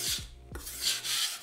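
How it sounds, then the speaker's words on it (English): A kitchen knife scrapes back and forth across a whetstone, making close, gritty rasping strokes with no talking. "So if we keep sharpening back and forth,"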